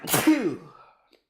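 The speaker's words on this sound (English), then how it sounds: "I have a sneeze." A single sharp sneeze, loud and close, followed by a brief breathy tail and a tiny click.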